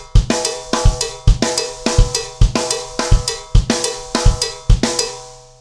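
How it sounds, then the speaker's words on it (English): Cowbell beating a steady songo pulse, sharp metallic strikes in a repeating syncopated pattern, loud and close and heard alone. "We'll play it on the cowbell."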